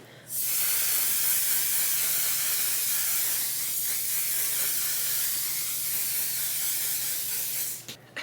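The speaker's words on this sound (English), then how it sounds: "spray away from your face" A continuous hiss of an aerosol makeup setting spray, close and fairly loud, running for several seconds before cutting off.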